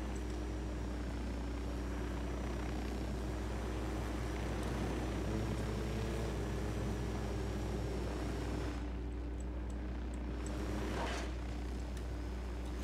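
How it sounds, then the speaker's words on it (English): A helicopter in the Ghost Recon Wildlands video game drones steadily with a deep, constant rotor and engine rumble that holds loud and unbroken the whole time. "See if my helicopter stays this time"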